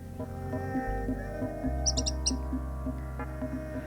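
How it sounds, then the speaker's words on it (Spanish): A tit-spinetail (coludito) calls from shrubs in the Patagonian steppe of Bosques Petrificados de Jaramillo, giving a brief cluster of high chirps over a steady humming drone and faint low rumble. "Los arbustos atraen muchas aves, como a este coludito."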